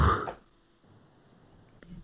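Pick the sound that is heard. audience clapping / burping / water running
burping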